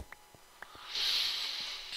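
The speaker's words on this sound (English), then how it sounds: "you might hear me sniffling a bit. I'm sick." Someone with a cold sniffling, several short soft nasal breaths followed by a longer airy hiss of a sniff, close and quiet with no talking.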